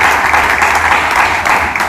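A church congregation applauding and cheering for Jesus Christ, a dense continuous wash of clapping that holds steady for two seconds without a break.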